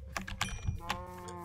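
A Minecraft cow moos in a short, close low call with a quick follow-up tone, clear and alone.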